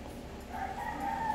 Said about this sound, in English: my chicken is saying hello to each and every one of you